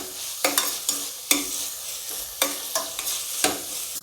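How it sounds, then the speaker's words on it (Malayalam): Sliced green chillies and onions sautéing in a pan, a bright close sizzle broken by repeated sharp spatula scrapes and stirs, loud and without talk. "ഇനി നമുക്കിതിലേക്ക് നീളത്തിൽ അരിഞ്ഞു വെച്ചിരിക്കുന്ന പച്ചമുളക് കൂടെ ഇട്ട് ഒന്ന് ഇളക്കിയെടുക്കാം."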